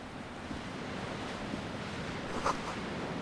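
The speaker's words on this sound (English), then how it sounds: "Waves crashing in the darkness." Waves wash in the dark within the video game Disco Elysium, a faint steady surf rumble with wind-like hiss and a slightly stronger swell near the end.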